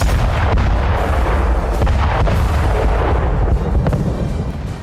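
Repeated heavy booms and blasts from a munitions depot in Jordan rumble in rapid succession, some sharp and close, over a continuous low roar, like explosions going off one after another.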